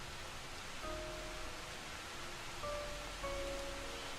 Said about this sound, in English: Trust it to rain on us